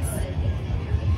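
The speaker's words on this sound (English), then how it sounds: "The crowd's been pretty busy." Dense crowd hubbub at the busy 626 Night Market in the Bay Area, a steady wash of overlapping voices and chatter with no single speaker standing out.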